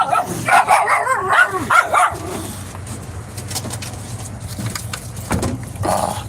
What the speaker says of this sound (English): What the hell y'all barking about?